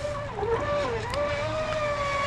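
A Traxxas Spartan SR RC boat spins on open water, its motor giving a steady, distant whine that bends up and down in pitch over a continuous wash of water and wind.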